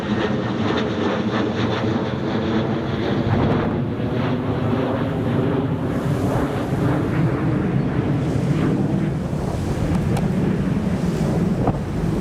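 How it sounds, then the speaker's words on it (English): Strong gusting wind roars across an open airport apron at Newcastle Airport during a January storm, a loud continuous buffeting that fills the whole stretch without a break. "Wind's definitely getting stronger."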